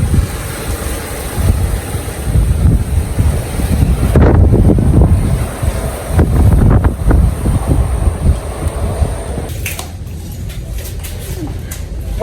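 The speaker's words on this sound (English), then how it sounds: "So it's really windy outside." Strong gusting wind during Hurricane Milton buffets the microphone outdoors with a loud, continuous roar that surges in waves, peaking around the middle, then eases slightly.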